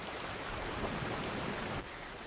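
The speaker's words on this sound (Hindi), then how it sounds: "ये बारिश भी अभी तक नहीं रुकी, रात हो गई फिर भी ऐसे ही बरस रही है।" Heavy rain pouring steadily at night, a dense, continuous hiss of drops without a break, close and fairly loud, with no voices.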